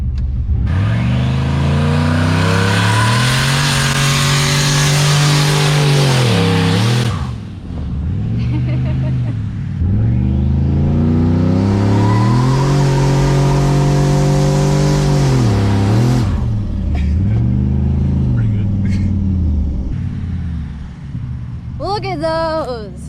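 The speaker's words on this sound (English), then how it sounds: "You know how to do a burnout?" A 600-horsepower turbocharged Yukon roars through a burnout, the engine revving hard in two long sustained pulls with dips between, loud and close, with tire screech noise riding on top; brief voices at the end.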